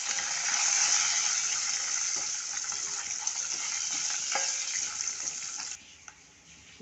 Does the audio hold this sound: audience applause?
no